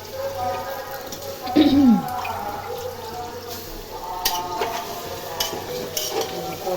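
Beef braises in a pan while being stirred, with scraping spoon strokes over a soft sizzle and a brief louder scrape partway through, set against a muffled household background.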